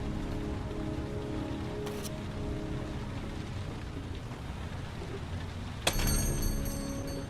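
Steady rain pours throughout a night scene in the Heavy Rain video game, a dense even hiss, with a sharp sudden clatter near the end lifting the level briefly.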